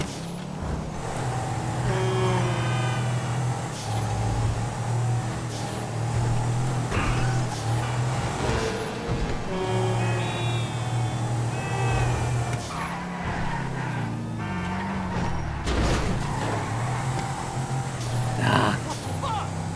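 A car engine in Grand Theft Auto V revs and accelerates repeatedly, with rising engine whines, tire squeals and skids throughout, loud and continuous, while someone talks over the game audio.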